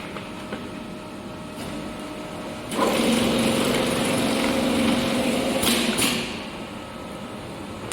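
A bag sewing machine closing a 20 kg baking powder sack on a packing line runs in a loud, steady mechanical whir for about three seconds over factory background hum, with short clicks at the start and end.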